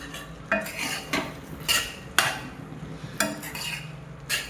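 Okra and dried fish curry stirred in a pan, with a spoon scraping and clinking against the metal in repeated strokes about every half second, close and clear over a faint low simmer.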